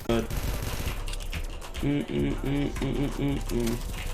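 Rapid bursts of blue AK gunfire from the zombsroyale.io browser game rattle out in several short, evenly spaced volleys, loud and close, with a voice talking in the background.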